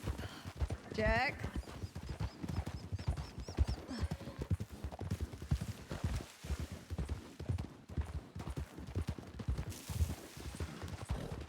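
Tired horse hooves clip-clop steadily through a Red Dead–style game on horseback, a continuous uneven rhythm close by with a horse whinny early on, running under constant talk.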